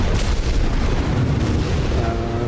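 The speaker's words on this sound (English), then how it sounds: "Is that artillery firing at me?" Artillery fire in the mech combat game Armored Core VI: a steady, heavy, rumbling barrage of booms that stays loud and dense throughout, with no pause between blasts.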